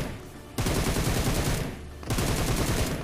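Rapid bursts of automatic gunfire from the mobile battle-royale game PUBG Mobile, loud and continuous, with a brief lull near the middle before firing resumes.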